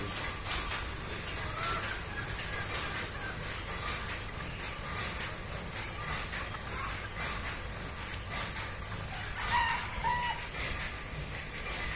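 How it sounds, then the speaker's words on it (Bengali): Farm chickens cluck and squabble nearby, with scattered squawks and agitated calls over a constant low background rumble. "এই মুরগিগুলা খুব রাগ অনেক রাগ খালি মারামারি করে"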